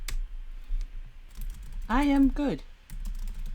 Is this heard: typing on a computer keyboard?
yes